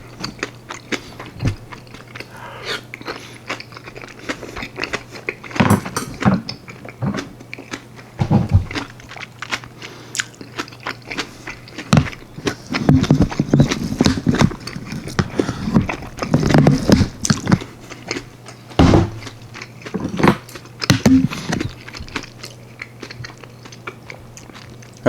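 Chewing tofu kimchi during a Korean mukbang, with a run of close, moist bites and crunchy chews in irregular bursts and pauses between them.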